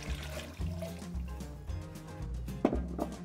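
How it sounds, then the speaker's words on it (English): Water is poured into a Durotherm casserole pot on a kitchen stove, a soft, uneven splashing and trickling with a few louder sloshes, quiet and close, with no voices. "we're gonna add 4 cups of water"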